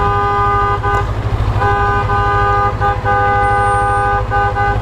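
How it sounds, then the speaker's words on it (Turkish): Car horns honking repeatedly at a village wedding, several long steady blasts in overlapping rhythm, loud and close over a low engine rumble. "bu düğün köyünde bu korna çalmanın şeyini anlamış değilim abi ya"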